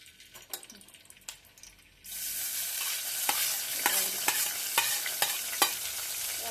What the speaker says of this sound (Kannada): ಎಣ್ಣೆ ಹಾಕ್ಕೊಂಡು ಎಲೆ ಉಳ್ಳಾಗಡ್ಡಿ ಟಮಾಟಿ ಬಿಟ್ಟಿದ್ದೆ ನೋಡಿ